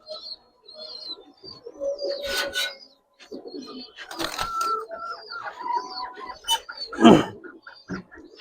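Giribaz pigeons coo in a loft, giving several close, rounded coos and some chirps while people talk over them.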